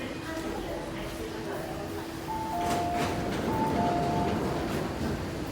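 A metro train pulls into Ma On Shan Station in Hong Kong, a steady rumble swelling midway with a two-tone chime. A recorded announcement plays over it.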